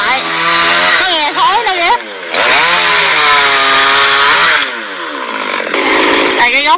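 A chainsaw cuts tree branches in a rural orchard setting, its loud motor droning steadily and pitching up and down as it bites, with people talking over it throughout.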